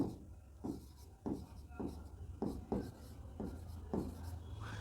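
Marker or chalk strokes on a classroom board during a botany lesson on stem structure, a steady series of scratchy writing bursts close by, with a teacher's voice speaking over them.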